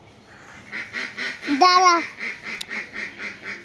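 Ducks being fed bread, a few nasal quacks rising over a continuous chattering of birds, with a person speaking and a voice briefly over them.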